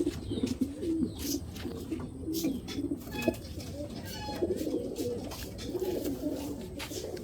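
Racing pigeons in a loft coo softly and repeatedly, low throaty calls overlapping near and far against a busy background, with brief chirps and no clear talk.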